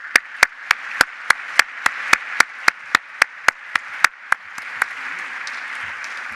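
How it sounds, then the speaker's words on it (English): A conference plenary audience gives a round of applause for the organizing team, with sharp, evenly spaced claps from one nearby person standing out over a softer crowd patter that dies away. "I want a round of applause to this team."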